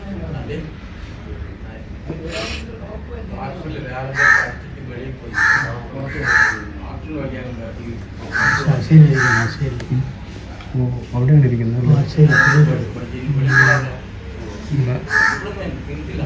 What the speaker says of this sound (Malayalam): എന്തോ പറയാനുള്ളത് പോലെ ഒരു കാക്ക വിളിച്ചുകൊണ്ടേയിരിക്കുന്നു